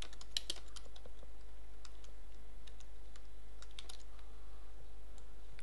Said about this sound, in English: type in some approve message